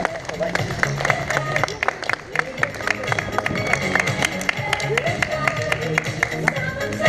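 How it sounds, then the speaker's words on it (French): Spectators at a 10 km road race applaud and cheer a wheelchair racer crossing the finish, with sharp scattered claps and crowd chatter over an announcer's amplified voice. "Vos applaudissements, cher public."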